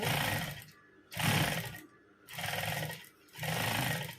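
A sewing machine stitches a two-layer fabric ruffle in four close, loud bursts of rapid mechanical whirring, with short pauses between them.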